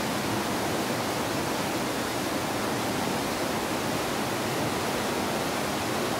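A river running beside flood-damaged homes in a mountain village, a steady broadband rush of flowing water sustained throughout, fairly loud and close, with no voices.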